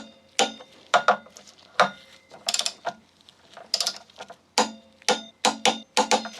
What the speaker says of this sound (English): Do these up until I get the click at 45.